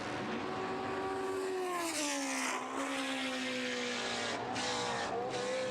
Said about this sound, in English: Lights the 5-litre Chevy up on the front straight